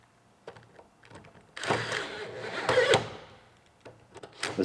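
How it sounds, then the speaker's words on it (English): Bolts being fitted to a used hood on a Fox Body Mustang GT rebuild, a few faint metallic clicks followed by a longer ratcheting, rattling stretch of fastening and then scattered taps. "put our bolts in it"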